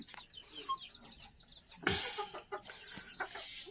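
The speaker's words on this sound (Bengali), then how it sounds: "ভালো ডিমের মুরগি যদি আপনি চান সেটা হচ্ছে ফার্মি মুরগি এদের খাঁচা লাগে না" Fayoumi laying hens, kept loose without cages, cluck softly and intermittently, with one sharper, louder call midway against a quiet background.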